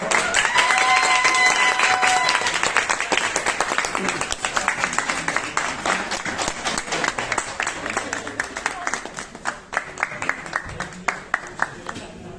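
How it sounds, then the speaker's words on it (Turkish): A film crew on the set of a Turkish TV series applauds after a scene wraps, with a burst of clapping that thins out over several seconds while people talk over it. "bir alkışlayalım"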